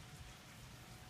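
Rain falls steadily on a front porch on a plateau farm, a soft even hiss and patter without talk.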